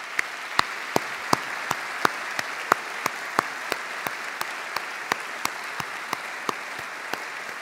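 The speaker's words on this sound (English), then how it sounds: "please join me in a round of applause for all the Swinburne staff" Evenly spaced, crisp claps repeat steadily at a measured pace over a soft background hiss, honoring the staff at a Swinburne University graduation ceremony in December 2018.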